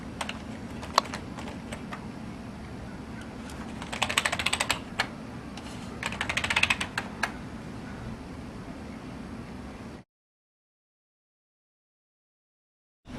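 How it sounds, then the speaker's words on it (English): A popsicle stick wrapped in a baby wipe rubs and clicks through the gaps of a computer keyboard, with scattered key taps and two louder bursts of scraping, before the sound cuts to silence. "For those in-between spaces of the keyboard, get a popsicle stick and a baby wipe and wrap it"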